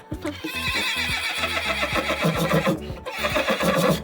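A horse lets out a long, shrill, piercing whinny, rising and quavering, with a short pause before another burst.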